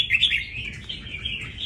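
A young red-whiskered bulbul, six to seven months old and kept in a cage, sings a quick, bright, warbling chirp, close and clear with nothing else heard.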